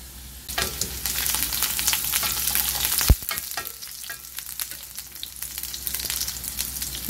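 Tadka of spices tempering in hot oil, a loud, dense sizzle and crackle that flares sharply at one point with a stirring clatter, heard close up without talk.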